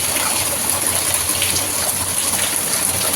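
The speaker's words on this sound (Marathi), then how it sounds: "भरपूर सारा पाऊस पडतोय" Steady, dense rushing hiss of heavy rain pouring down, constant and loud throughout with no voices.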